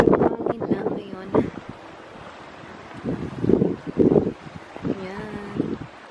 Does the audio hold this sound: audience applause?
no